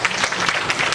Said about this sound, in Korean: 두 분께 또 박수로